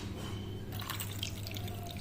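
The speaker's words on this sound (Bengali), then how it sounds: "এটার মধ্যে জল দিয়ে দিলাম" Water poured onto melted butter in a pot while making ghee from milk cream, a trickling, splashing pour that starts suddenly partway through and runs steadily over a low background hum.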